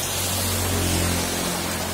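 Heavy torrential rain beats down beside a nearly full roadside drain culvert, a loud, dense, even roar of water that stays constant and close with no voices over it.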